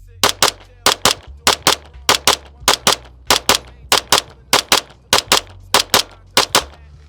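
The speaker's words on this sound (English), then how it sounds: "based on how fast we're shooting the gun" Pistol fired in rapid doubles at a target during practical shooting grip practice, loud close pairs of sharp cracks repeating at an even rhythm, about a dozen pairs in all.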